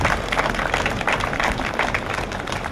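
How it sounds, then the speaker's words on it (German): Applause from an audience at a German community choir singing event, dense and steady clapping filling the whole moment, loud and close with no voices over it. "Ich denke, das verdient einen Applaus hier."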